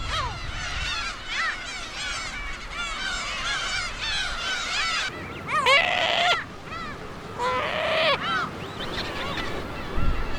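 Black-tailed gulls calling during the breeding season, with a dense chorus of overlapping harsh, honking cries, some louder nearer calls standing out over a steady background flock.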